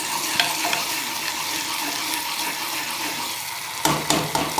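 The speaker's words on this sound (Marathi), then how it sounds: "मस्त तेलामध्ये तळून घ्यायचा" Ground masala paste frying in hot oil, a dense close hiss and crackle that stays even, with a few louder stirring knocks near the end.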